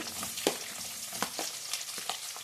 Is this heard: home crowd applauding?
no